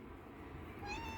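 A domestic cat lets out a single short, rising meow, faint and brief against a low background hum.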